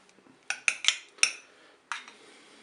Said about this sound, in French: Je vais commencer par mettre une cuillère de crème fraîche dans chaque cocotte.